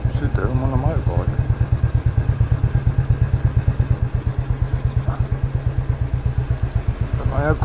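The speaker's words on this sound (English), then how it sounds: "I'm on a motorbike" A Royal Enfield Bullet 350 motorcycle idles close by with a steady, loud, even thumping beat, and a voice is briefly heard over the engine.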